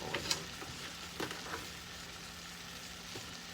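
Shrimp fry in butter and corn oil in a pan, a quiet, low sizzle with a few soft crackles and pops scattered through it.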